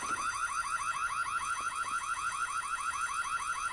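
Intruder alarm in the Korean horror game White Day: a continuous warbling electronic siren with fast repeating rising sweeps, steady and fairly loud, running alone without talk.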